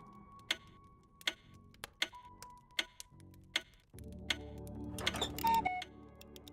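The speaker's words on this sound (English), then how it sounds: "The dials change how quickly the clock ticks." Clock ticking in the video game We Were Here Together, a steady sequence of sharp, evenly spaced ticks at close range, followed by a louder mechanical whirring and rattling with a brief chime.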